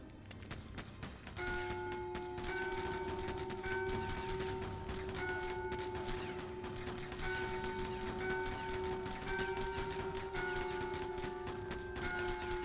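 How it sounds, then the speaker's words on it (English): Bells struck by gunfire in the Lego Batman video game, ringing as sustained tonal chimes that recur over a steady loud game backdrop, with sharp clanging hits throughout. "It looked like they shot one bell and there we go. You had to hit them together."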